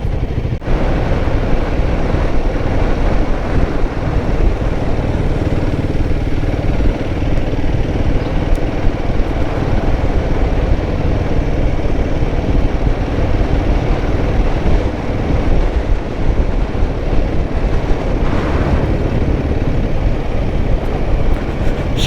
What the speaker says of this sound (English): So far the engine's feeling nice and smooth,